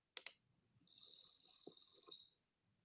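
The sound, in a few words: small bird's buzzy song rising up the scale, ending with tip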